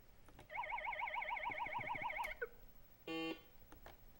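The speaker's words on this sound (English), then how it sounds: "the siren announced the last part of the game" At a high school quiz match, an electronic siren warbles steadily for about two seconds to signal the last part of the game, followed by a short, flat buzzer tone in a quiet room.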